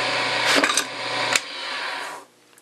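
A lathe tool cuts a tenon on a spinning wooden pen blank, giving a close, bright scraping whir with a few sharp catches before it stops abruptly.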